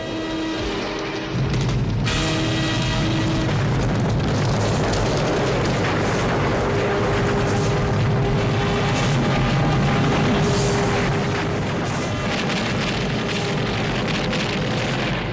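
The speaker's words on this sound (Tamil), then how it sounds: "எரிமலை வெடிச்சிருச்சு." A cartoon volcano erupts in a sustained loud rumbling roar, dense crackling and hissing debris over a deep steady drone, with tonal musical sound effects layered through it.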